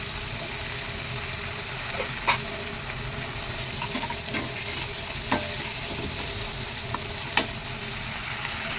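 A spice paste with turmeric, salt and a splash of water fries in a pan under constant stirring, giving a steady sizzling hiss broken by several sharp scraping clinks of the spoon.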